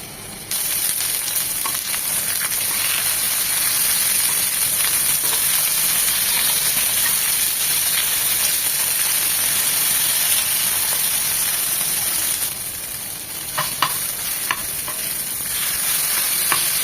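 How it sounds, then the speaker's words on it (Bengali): Three tomatoes fry and sizzle in hot oil, a steady, close, bright hiss that runs almost unbroken, dipping briefly near the end with a few small pops and clinks. "তেলটা গরম হয়ে এলে এখানে আমি 3টা টমেটো নিয়েছি। তো এমনভাবে ভেজে নেব যেন একদম পোড়া পোড়া হয়"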